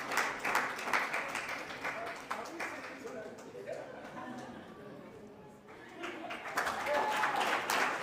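Applause at a conference ceremony honoring a guest, moderate and steady through the stretch, dipping slightly midway then swelling again, with crowd chatter mixed in.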